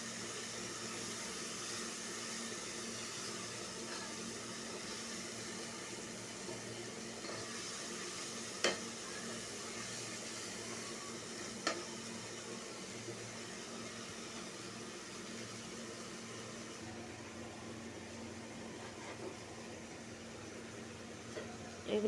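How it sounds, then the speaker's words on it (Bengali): Duck meat sizzles in a pan of frying spices, a steady, low-level crackling hiss that runs on evenly with a few faint clicks and knocks and no talk. "এখন আমি হাঁসের গোশটা দিয়ে দেবো।"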